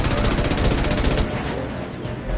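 Rapid gunfire in Mass Effect 2, a loud burst of fast, evenly spaced shots rattling for about a second before trailing into a fading rumble.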